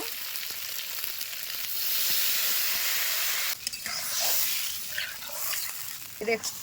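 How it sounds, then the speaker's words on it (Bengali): Green chili paste sizzles in hot oil while being fried for a Bengali hilsa and taro curry. The crackle is steady and broadband, with a few louder bursts toward the end. "এই কাঁচা লঙ্কা বাটা দিয়ে দিচ্ছি ভাজার মধ্যেই।"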